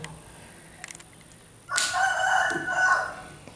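A rooster crows once outdoors, a loud, clear cock-a-doodle-doo lasting about two seconds over faint background noise, at a moderate distance.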